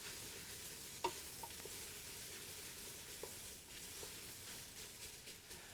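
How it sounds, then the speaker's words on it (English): Onions being stirred in a pot with a wooden spoon, a soft steady sizzle with a few faint scraping knocks against the pot, quiet and close, no talking. "you need to keep those onions stirred. Wooden spoon's very important."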